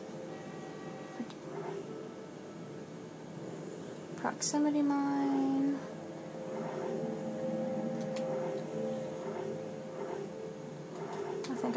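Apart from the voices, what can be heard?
printer noise in a video game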